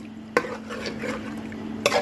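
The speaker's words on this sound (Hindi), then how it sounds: "थोड़ा सा भून लेते हैं" Pieces of mutton are stirred and fried in a pressure cooker pot for aloo gosht, with a spoon scraping the metal in two sharp clinks amid a soft, steady sizzle.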